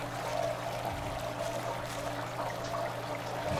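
A T-rex drinking water in the game The Isle: a steady, moderate pouring and trickling of water, continuous with no pauses.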